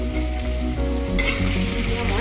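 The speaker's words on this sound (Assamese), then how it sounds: "আৰু লগতে দি দিম আদা আৰু নহৰু। এনেদৰে আমি অকণমান সময় ভালদৰে ভাজি ল'ম।" Ginger and garlic fry in a pan with a loud, continuous sizzle and crackle, alongside a low steady hum of a kitchen appliance.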